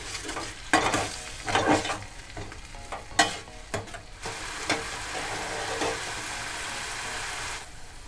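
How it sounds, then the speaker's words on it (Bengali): Sauce and a little water stirred in a pan over a medium gas flame for egg momo sauce, with steady sizzling, scraping spoon strokes at an irregular rhythm, and a sharp clack near the middle. "জল দিয়ে একদম সসটাকে খুব ভালো করে মিক্স করে নেব।"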